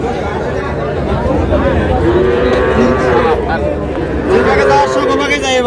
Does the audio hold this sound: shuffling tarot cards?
no